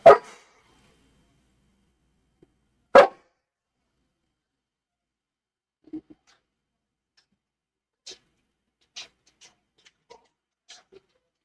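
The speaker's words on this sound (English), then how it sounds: "Sorry about my dog." A dog indoors gives two sharp, loud barks about three seconds apart, followed by faint scattered ticks and small clicks in an otherwise quiet room.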